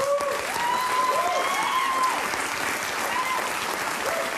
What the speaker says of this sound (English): They're clapping. They're fucking clapping for it.